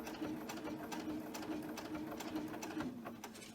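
A sewing machine stitches slowly through a rice-filled fabric hand warmer, with a steady rapid mechanical clatter and motor whir at a quiet, close level throughout.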